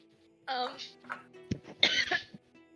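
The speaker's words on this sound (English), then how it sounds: "I had to clear my throat" A person clears their throat twice with rough, guttural bursts, close to the microphone, separated by a short pause.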